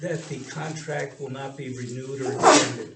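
A single sharp sneeze bursts out near the end, after a man's steady speech fills most of the stretch.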